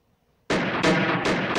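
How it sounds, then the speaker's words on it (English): Gunshots ring through the halls of a mafia mansion in a visual novel game: a sudden burst of four loud, sharp reports in quick, uneven succession after a moment of silence. "the gunshots continued once more through the halls"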